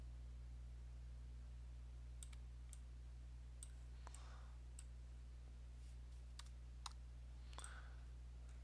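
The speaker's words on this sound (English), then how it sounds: "I'm just doing that shift right mouse click." Quiet, scattered mouse clicks, a handful of short ticks spread irregularly over a low steady hum, with no talking.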